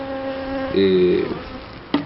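Bees buzzing nearby, a steady drone that swells louder for about half a second in the middle before easing off, followed by a brief knock near the end.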